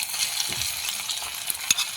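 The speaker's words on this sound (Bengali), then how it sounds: "তো মশলাটা যাতে ভালো করে ভাজা হয়ে যায়" Ginger, garlic and chili paste fries in hot oil in a kadai, making a soft, even hiss with a few light scrapes and stirring taps near the end.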